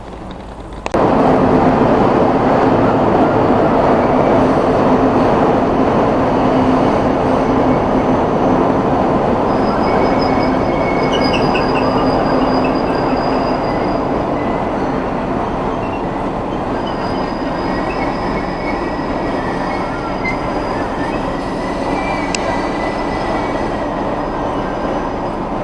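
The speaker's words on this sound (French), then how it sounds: "Donc voici un ICE, donc c'est l'équivalent de notre TGV mais en Allemagne." German ICE high-speed train at Bremen Hauptbahnhof, a steady loud rumble of rolling rail cars close by with faint squeals and clanks over the station background, sustained throughout.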